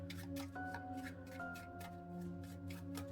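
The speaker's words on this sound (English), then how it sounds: "There's only 1, so let's shuffle these back in." Tension cards from a Resident Evil board game deck are shuffled with a soft, continuous papery riffle, quiet beneath a steady background of sustained musical tones.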